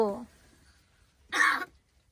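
Two short, harsh coughs, spaced about a second apart and fairly close, stand out against a quiet background.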